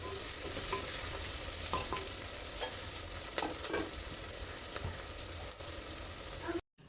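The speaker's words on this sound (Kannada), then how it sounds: "ಈರುಳ್ಳಿಯನ್ನು ಒಂದು 2-3 ನಿಮಿಷಗಳ ಕಾಲ ಚೆನ್ನಾಗಿ ಫ್ರೈ ಮಾಡ್ಕೋಬೇಕಾಗತ್ತೆ" Onions frying in a pan for egg biryani, with steady, moderate sizzling and occasional clicks of stirring throughout, no voices, ending in a brief cut to silence.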